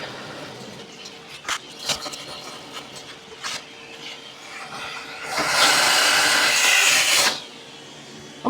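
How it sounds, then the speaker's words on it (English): A drill bores into a Storm Mix bowling ball to clear a scratch or chip, a loud, close whirring burst of about two seconds following a few quieter knocks and handling sounds. "So it's a pretty simple, just drilling it down."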